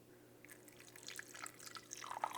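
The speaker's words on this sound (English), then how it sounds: "we're going to go ahead and throw in 400 grams of water" Water trickles and drips into a bowl on a kitchen scale while sourdough is being mixed. The sound is faint, close and intermittent, with small splashes picking up toward the end.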